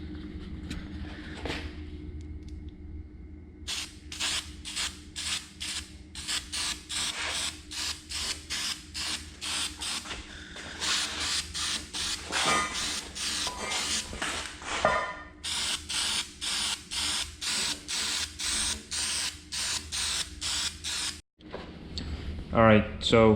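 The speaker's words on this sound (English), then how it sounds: "we're gonna give it a little blast of some weld through primer" Repeated short hissing blasts from an aerosol can of weld-through primer sprayed inside a steel trailer, close and steady with brief pauses between bursts.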